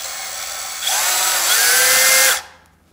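A Makita 18V LXT compact cordless bandsaw spins up from a low whir to a high, steady whine for about a second and a half, then cuts off and winds down.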